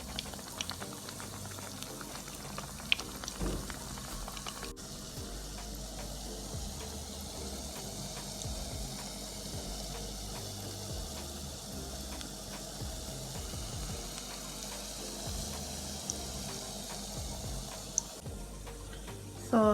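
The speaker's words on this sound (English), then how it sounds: "So we're going to leave it like that and let it fry on each side." Plantain boats frying in a pan of oil, a continuous bubbling sizzle with scattered pops that holds steady throughout, faint and without any voices.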